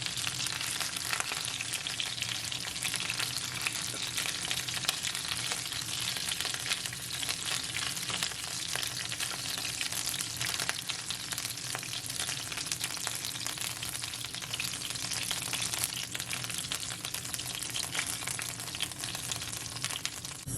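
Chicken wings for Chinese sticky wings sizzle and fry in a pot on the stove, a steady, dense crackle holding at an even level for the whole stretch with no talking.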